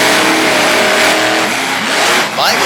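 Monster truck engines rev hard at the start of a race in Durham, Connecticut, loud and close with rising engine pitch and a brief tire squeal near the end, under an announcer's voice.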